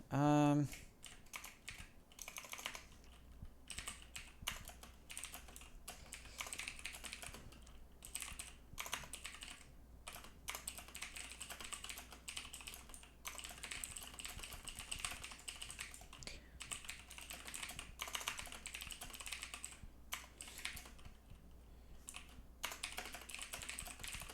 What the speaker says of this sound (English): I have a really clicky keyboard, so all you hear is probably just a tick, tick, tick, tick, tick, tick, tick, tick.